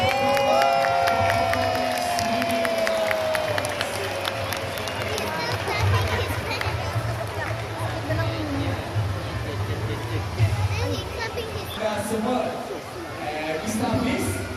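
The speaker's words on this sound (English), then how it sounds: "So guys, clap your hands for" Crowd of zoo visitors clapping and cheering at a sea lion show in Kuala Lumpur, a busy outdoor hubbub of claps and shouts under an amplified presenter's voice and children's calls.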